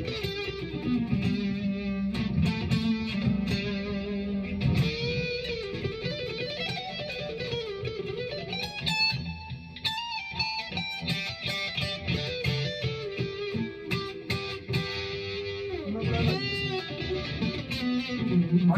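Distorted electric guitar plays a melodic line with chords through an arena reverb effect, a big, spacious reverb that lets notes ring and blur together.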